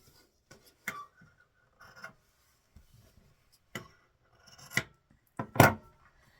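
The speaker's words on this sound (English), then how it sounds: "take your scissors and you're going to cut off your little corners here at an angle" Scissors snipping the corners off old linen fabric at an angle, a handful of short, separate crisp cuts spaced irregularly, close and fairly quiet with near silence between.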